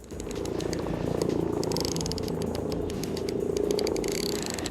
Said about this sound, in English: Definitely hear that drag clicker.